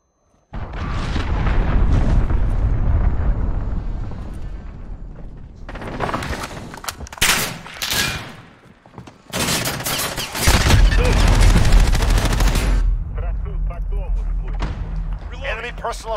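Heavy cruise missile strike explosions in Call of Duty: Modern Warfare, a loud run of booming blasts and rumbling debris that surges, dips around the middle and swells again, with voices talking throughout.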